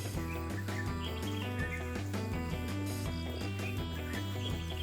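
Birds chirp and tweet in a calm outdoor setting in a quiet coastal Hakka village near Luk Keng, Hong Kong, their calls scattered over a steady low hum.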